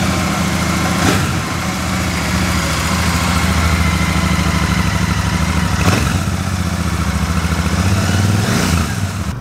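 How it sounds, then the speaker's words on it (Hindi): A Royal Enfield Super Meteor 650 idles with a deep, steady exhaust burble, loud and close, the throb holding even with a few brief swells. "मैं आप लोगों को सुनाऊंगा actual audio of the exhaust"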